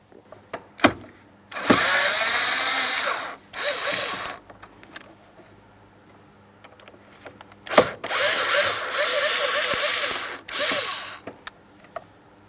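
A power tool backs screws out of a cruise control switch on a 2008-2016 Chrysler Town & Country, in two long whirring bursts with short starts and clicks between them, close and loud.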